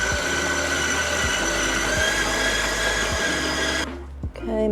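An electric stand mixer beats sugar cookie dough as red food coloring is worked in, a loud steady whir with a rhythmic thump on each turn of the beater, stopping abruptly near the end.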